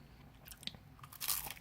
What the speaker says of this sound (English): if we listen to the crunch.